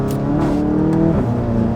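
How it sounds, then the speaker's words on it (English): A Volkswagen GTI accelerates hard during a ride, its engine note climbing steadily in a loud, close, continuous drone heard from inside the car. "John wanted to take me for a rip in his GTI"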